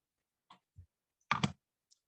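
A few sharp, quiet clicks from a computer mouse while working in embroidery design software, spaced irregularly with a quick double click near the middle, close and alone.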